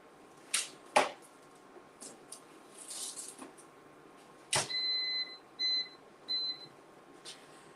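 An air fryer being set gives a short series of electronic beeps, a few spaced tones in quick succession, heard clearly with no one speaking over them.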